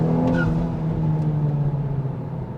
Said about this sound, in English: So you are probably hearing some engine noise from the mic right now